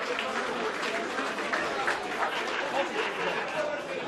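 Applause from the audience at an amateur football league awards ceremony, a moderately quiet, continuous wash of clapping with crowd murmur underneath.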